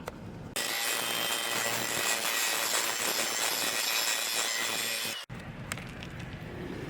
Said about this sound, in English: So I'm gonna just grind it a little more